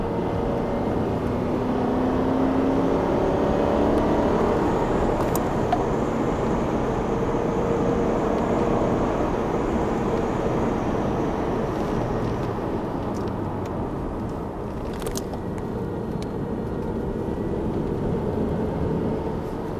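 Aston Martin driving laps of the Thruxton race track, a continuous loud engine drone and road roar from inside the car, holding steady for the whole stretch with no talk.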